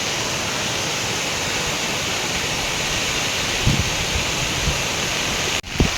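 A waterfall at Shri Narayani Dham near Lonavala pours in heavy rain, giving a loud, unbroken broadband roar with a few low thumps near the end and no talking.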